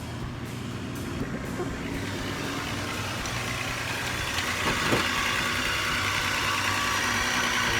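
A VW VR6 engine idles steadily at a slow warm-up speed, a continuous low rumble heard up close that rises slightly in level partway through, with no talk over it.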